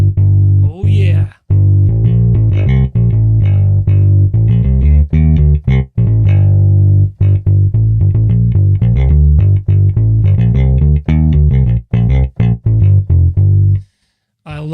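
Electric bass played through the MODO Bass plugin with its tube drive distortion pushed up, a loud, gritty, sustained riff of repeated low notes with short gaps between phrases and a brief silence near the end.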